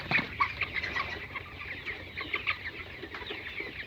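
Broiler chickens about 25 days old cluck and squawk in a bucket as they are weighed on a farm, with busy, overlapping calls and a few sharp cries up close.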